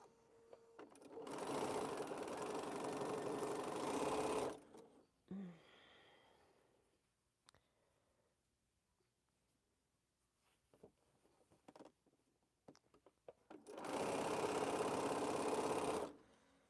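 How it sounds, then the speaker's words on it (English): Sewing machine stitching small quilt pieces together in two loud, steady running bursts, separated by a quieter stretch with faint handling sounds. "Sew these little things together."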